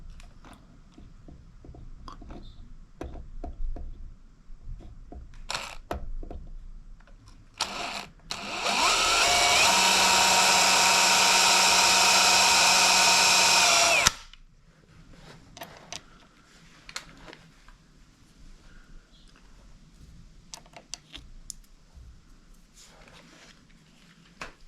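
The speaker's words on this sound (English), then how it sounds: "drill a little bit of a pilot hole right there." A power drill whirs loudly for about five seconds, drilling a pilot hole in the table advance mechanism of a Lewis metal shaper, then stops, with quieter clicks and handling taps before and after.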